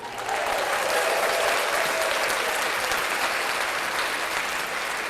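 Steady, dense applause from many hands, sustained and loud throughout with no pauses.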